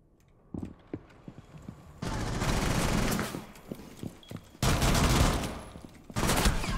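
Gunfire from Rainbow Six Siege comes as isolated sharp shots, then two long dense bursts of rapid fire, loud and close, separated by quieter gaps with scattered single reports.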